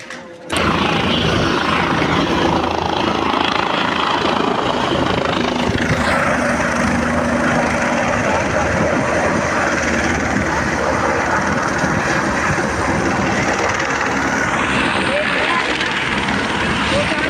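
Steady, loud drone of a faulty helicopter's rotor and engine departing Kedarnath, running continuously, close and dominant throughout, with a faint rising whine near the end.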